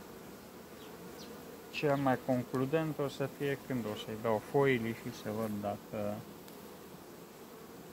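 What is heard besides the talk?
honey bees buzzing at a hive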